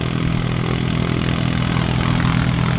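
A Cessna light aircraft on final approach at Manchester City Airport gives a steady, continuous propeller-engine drone, moderately loud and unbroken throughout, with no talk over it.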